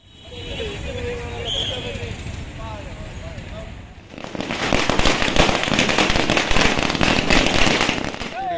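Party workers celebrate with firecrackers at a town circle: voices and crowd noise come first, then a loud, rapid string of crackling bursts sets off and keeps going in a dense, close barrage.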